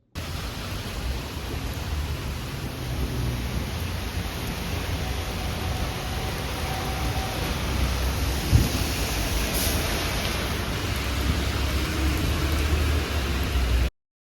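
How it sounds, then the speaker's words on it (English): Heavy rain pours during a storm in Brooklyn under a flood watch, a steady, dense hiss of falling water that holds loud and even throughout, with no voices. "There's a bunch of rain falling down."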